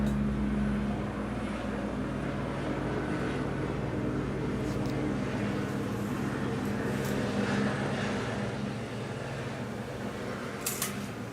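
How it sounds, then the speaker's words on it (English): A helicopter flying past outside, heard indoors as a steady, distant low rotor and engine drone that holds for several seconds with no talking. "Got a helicopter going past."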